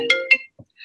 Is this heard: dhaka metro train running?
no